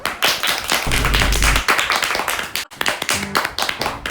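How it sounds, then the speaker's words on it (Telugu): A group of children in a tuition class claps their hands together in a dense burst of rapid claps. The clapping thins after about a second and a half, and a few scattered claps follow after a brief break. "వెరీ గుడ్, క్లాప్స్ కొట్టండి అందరూ"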